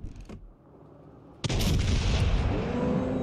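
Warship guns firing high-explosive shells in World of Warships Legends, heard as a sharp boom that opens into a loud, sustained rumbling roar lasting several seconds, after a fainter earlier thud.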